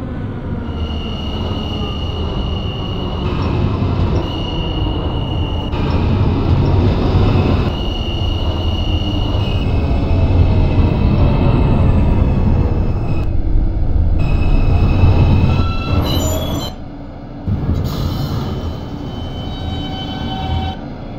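An R160A subway train in the OpenBVE simulator runs on a Q local toward Coney Island: a steady low rumble of motors and wheels with a high-pitched tone on top, squealing wheels and a brief quieter break before the rolling noise returns.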